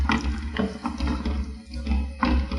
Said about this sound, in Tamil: ஒரு 1/2 டம்ளர் அளவுக்கு தண்ணி ஆட் பண்ணியாச்சு.